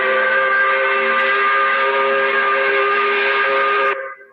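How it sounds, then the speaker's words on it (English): A loud, steady five o'clock steam whistle blows continuously for about four seconds with several harmonic tones, then cuts off abruptly. "we do that by blowing the 5 o'clock whistle"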